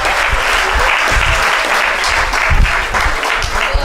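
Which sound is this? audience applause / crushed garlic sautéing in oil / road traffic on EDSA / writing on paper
audience applause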